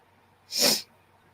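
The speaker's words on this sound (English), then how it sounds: "Oh, this damn sneeze." A single sharp, breathy sneeze bursts out close by, brief and hissing, in otherwise quiet surroundings.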